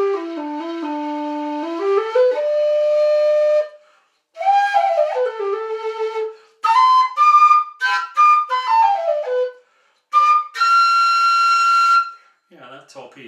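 A low metal whistle, a Chieftain V5 low D, plays a melody in phrases with short gaps, sliding between notes, breathy and clear, with brief pauses between runs.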